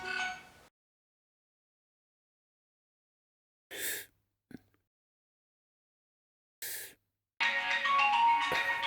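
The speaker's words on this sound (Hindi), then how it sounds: "ये क्या बार बार फोन पे फोन करते जा रहा" A mobile phone ringtone sounds in short separate bursts with silence between them, and sighs and breathing from someone nearby fill the gaps.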